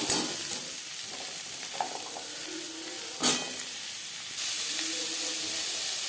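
Carrots, tomato and onion cook in hot mustard oil, a loud continuous sizzle and hiss with stirring scrapes and a brief clatter midway, no voices.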